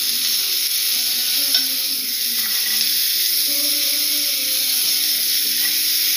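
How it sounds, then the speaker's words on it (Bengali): Vegetables sizzle steadily in a hot pan for dalia as green peas go in, a continuous bright frying hiss with faint stirring clinks and no talk. "মটরশুঁটিটা দিয়ে দেবো।"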